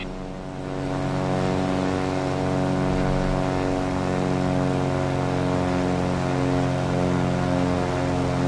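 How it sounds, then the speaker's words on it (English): A helicopter arriving in Just Cause 2: a steady, droning engine hum with a strong tonal whine swells up in the first second, then holds at a constant, fairly loud level without voices. "Chopper arriving shortly."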